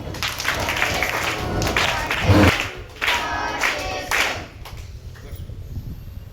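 An audience claps in congratulation at an Independence Day gathering, with steady applause rising and falling alongside crowd noise and a few voices.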